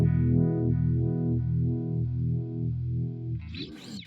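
Guitar running through an MXR Univibe pedal, sustained chords pulsing in a slow, throbbing wobble with a thick, slightly distorted tone, close and steady before a brief noisy scrape at the end.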